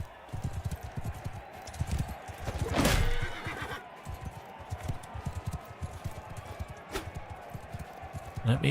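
A horse whinnies and its hooves clop in battle in the game Mount & Blade II: Bannerlord, Realm of Thrones mod. The neigh swells briefly over steady hoofbeats and game noise while a player talks throughout.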